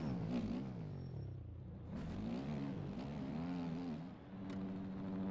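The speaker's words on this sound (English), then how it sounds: "Go first gear. Engine braking." A dirt bike engine in MX Bikes on the Glen Helen track winds down under engine braking in first gear, a steady throaty drone whose pitch rises and falls, near and moderately loud.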